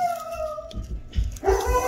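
A dog gives a few short, whiny barks and yips close by, the last ones louder and higher.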